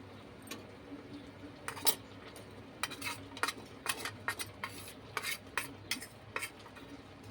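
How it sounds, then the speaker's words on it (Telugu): Grated jaggery added to a pot of cooked rice and stirred with a metal spoon, a quiet series of sharp scraping clinks against the pot in an irregular rhythm over a low hum. "హాఫ్ కప్పు బెల్లం తురిమి పెట్టాను, ఇందులో వేస్తున్నాను"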